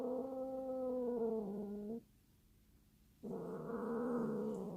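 Two cats fighting, a close, drawn-out low growl that breaks off into near silence, then another sustained growl resumes.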